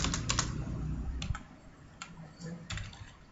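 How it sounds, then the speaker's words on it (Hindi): Quick, close keystrokes rattle on a computer keyboard as PHP code is entered, forming a steady run of clicks. "यहाँ पे मैं अपना PHP का कोड एंटर करता हूं।"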